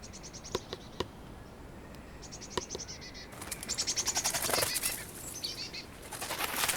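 Small birds flutter and feed at a bird box in winter. Quick wingbeats and soft pecking taps come close by, with high, faint chirps scattered over a quiet outdoor background.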